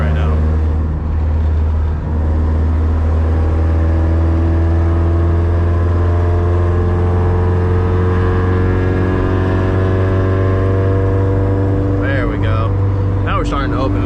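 A Mazda car accelerating on a highway, engine hum climbing steadily in pitch under constant road and wind roar, with brief sharp sounds near the end.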